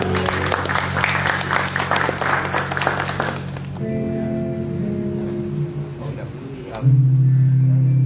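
Church congregation applauding during an evening service closing an adolescents' congress, dense clapping for about four seconds that thins out, followed by sustained music or singing.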